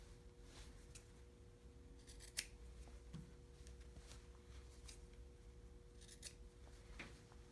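Scissors snip the fabric corners of a sewn bowl cozy, a few small, quiet cuts spread across a soft, steady background hum with no talking.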